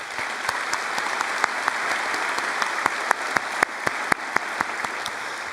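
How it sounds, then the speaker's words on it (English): An audience at a high school graduation ceremony in Chaska applauds steadily and loudly, a dense wash of clapping with individual sharper claps standing out throughout. "How about a round of applause for those students,"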